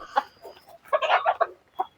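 Native village hens cluck nearby in short, separate bursts, a few sharp clucks, then a busier cluster, then a single cluck, with no talk over them.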